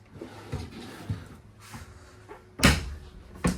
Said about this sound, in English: This one as well got some drawers that come out.